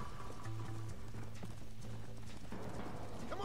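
Rhythmic clip-clop of horse hooves at a steady gait in the Red Dead Redemption video game, with snorting and panting from a tiring horse, all game sound with no talk.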